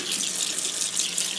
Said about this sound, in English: run some cold water right on top of it